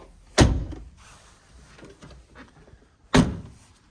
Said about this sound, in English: And then we'll close the door up.